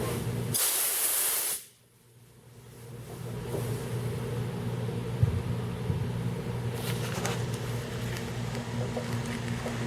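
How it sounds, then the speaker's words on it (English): A burst of compressed air hisses loudly across the roof of a Chevy OBS pickup in an auto body shop for about a second, then cuts off, leaving a steady low shop hum and rumble. "We're just kind of blow this off real fast."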